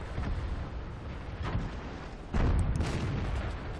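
Heavy broadband boom of an artillery shell striking a tank in World of Tanks, a sharp impact that jumps in loudness and lingers as a rumbling roar over continuous game noise, with a smaller blast shortly before.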